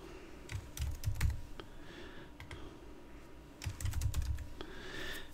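Fingers tap on a computer keyboard in two short bursts of clicking keystrokes with a quiet pause between them, heard close and fairly soft.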